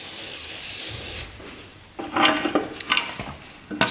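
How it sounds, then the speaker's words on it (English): Penetrating oil sprayed onto a slightly rusty clutch cover of a Suzuki Quadzilla 750cc quad, heard as a steady aerosol hiss followed by several short bursts of spray with light metallic clinks, close up and with no talking. "We're gonna spray that with some penetrating oil."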